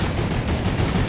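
Rapid bursts of gunfire in the Fortnite battle royale game, a dense continuous barrage with no talk over it.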